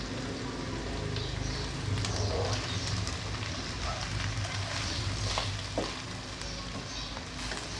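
Vegetables and garlic frying in a pan for a spicy chicken macaroni, a dense continuous close sizzle with occasional stirring scrapes and clicks throughout, fairly loud and steady.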